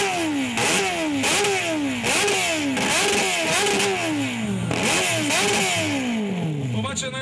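A motorcycle revs hard again and again at a loudness contest during a motorcycle season opening in Varna, each loud rev rising and falling in quick succession, with crowd voices underneath.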